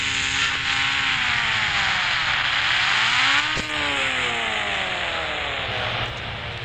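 A motorbike ridden for stunts and racing, its engine droning close and loud as the pitch rises, dips and climbs again through throttle changes. The noise eases slightly near the end, with no speech.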